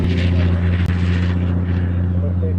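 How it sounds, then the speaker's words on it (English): A Southwest Airlines airliner at Honolulu airport produces a loud, steady low-pitched engine drone with a strong hum and broadband rush that continues throughout, close by. "This is a Southwest Airlines special livery."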